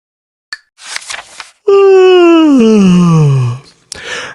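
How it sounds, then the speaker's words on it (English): A long, loud voiced yawn slides downward in pitch, preceded by a few breathy sounds; a person acting out the yawn. "He stretched and yawned loudly."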